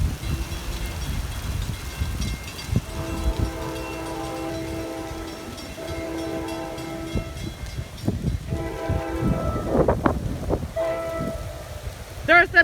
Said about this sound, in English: Here comes the next train. The New Jersey Transit 2121 to Spring Valley.